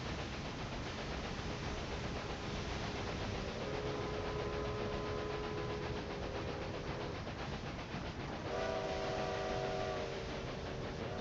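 Steam-era train whistle in the railway management game Railway Empire, sounding in two sustained tonal blasts over a continuous rumbling rolling-stock background, with no talking.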